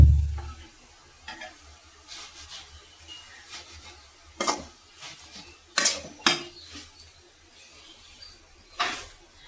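Dried jute leaves are stirred with oil in a pan, a spatula scraping and clinking against the metal in irregular strokes with a soft sizzle underneath, close and without talk.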